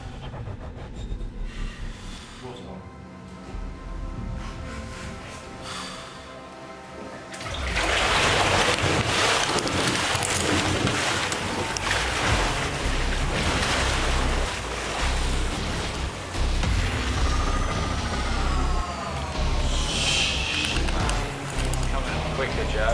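Water pours in with a loud, continuous rushing roar during an underwater escape trick in a net. It starts abruptly after a quieter stretch of movement and continues strongly to the end, with voices heard beneath it.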